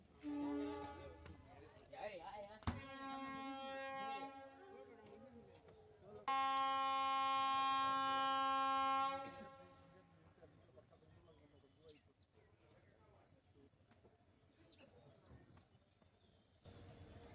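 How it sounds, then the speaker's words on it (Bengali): A train horn sounds in two long, loud blasts, followed by the low rumble of the train pulling away from Longai station while people talk. "আস্তে আস্তে করে লঙ্গাই থেকে ছেড়ে দিল ট্রেন"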